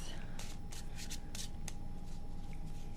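Tarot cards are shuffled close up in a series of quick riffling bursts with short pauses between them, over a constant low background hum.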